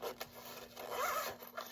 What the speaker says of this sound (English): On this side, you have a zipper enclosure.